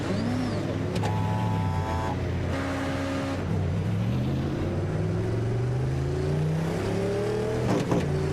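Simulated LM prototype race car engine in iRacing idling and revving on the grid behind the pace car, with rising and falling engine tones, gear changes and another car passing near the end.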